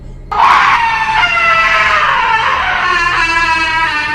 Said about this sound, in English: a second scream was let loose with even more force than the first